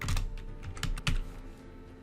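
Keystrokes on a computer keyboard while typing a word into a document, a short burst of close, crisp clicks in an uneven rhythm, with no talking.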